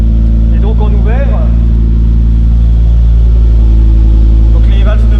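Car engine idling loud and close with its pneumatic exhaust valves open, a deep steady rumble, while someone talks over it at the start and end.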